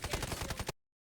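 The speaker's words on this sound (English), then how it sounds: "I start firing." Rapid burst of video game gunfire in a hero shooter, roughly seven fast evenly spaced shots lasting under a second, loud and close, cutting off abruptly into silence.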